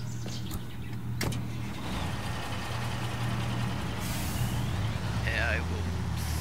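A truck in the video game Construction Simulator, its engine idling in a steady low drone with a brief hiss near the start and a faint chirp near the end, no talk.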